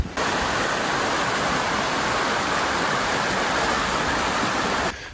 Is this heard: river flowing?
yes